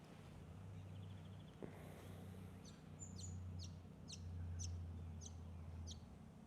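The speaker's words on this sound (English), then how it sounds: "Listen to the yapping of the birds." Birds chirping outdoors: a series of short, high, regularly spaced chirps over a steady low hum and background noise, faint and somewhat distant.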